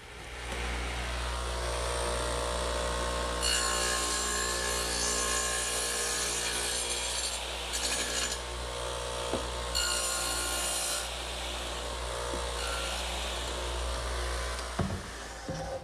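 A power saw plows material out of a 7/8-inch-thick wood tenon, a steady machine drone beneath bursts of harsh, bright cutting noise that rise and fall several times over about sixteen seconds.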